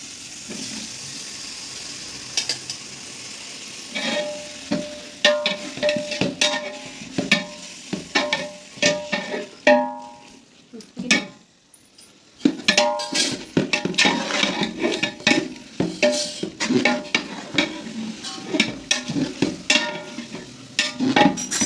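A kilo of long-sliced tomatoes fries in a large pot for chicken biryani made with ginger and garlic paste, with loud stirring scrapes and clinks over a steady sizzle and a short lull midway.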